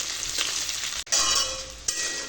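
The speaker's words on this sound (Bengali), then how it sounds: "এই দেখো পেঁয়াজ লঙ্কা সব লাল লাল করে ভাজা হয়ে গেছে" Onions and green chillies fry in a pan, giving a dense close sizzle with a short break and a light metallic clink partway through. No voices are heard.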